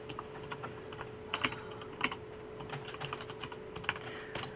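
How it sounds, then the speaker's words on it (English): Steady typing on a computer keyboard, quick irregular key clicks with occasional louder taps like the enter key, close to the microphone over a faint constant background hum, with no voices. "I'm just going to start typing some stuff in."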